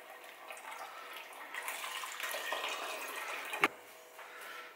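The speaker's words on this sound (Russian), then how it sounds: "Все сливаем в бутыль." Homemade grape wine must, separated from the pulp, is poured into a bottle with a steady close splashing gurgle of liquid, followed by one sharp knock near the end before the flow quietens.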